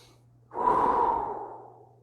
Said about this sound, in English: Couple big breaths.